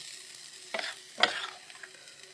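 Meat and flattened rice sizzling and frying in a pan, with two clear scraping stirs of a spatula and a soft crackle between them.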